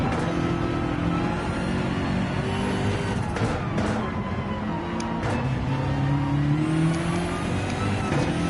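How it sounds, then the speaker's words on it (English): Onboard sound of a race car during a two-hour endurance race at Petit Le Mans, the engine droning steadily and loudly throughout with rising and falling tones as it shifts and accelerates. "Not only can you see what they're seeing, you can hear more precisely what the car would sound like as well"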